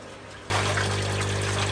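Water from a large filter pumping into a big aquarium tank switches on abruptly, becoming a loud, steady rushing flow with a constant low motor hum.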